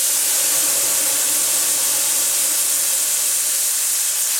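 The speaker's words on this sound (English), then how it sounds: "take our chicken broth and pour it in. Now this is going to steam." Loud, continuous steaming hiss from chicken broth hitting a hot pan, a dense sizzling rush that holds steady throughout without any talking.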